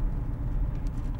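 A car running on waste vegetable oil gives a steady, low engine rumble, moderately loud and continuous, with no voices.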